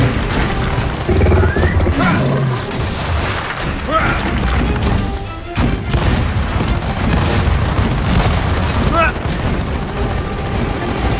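Gunfire rings out in the Gears of War 4 video game, with repeated booming shots and crashes over continuous battle noise, loud and dense across the whole stretch, while voices talk intermittently underneath.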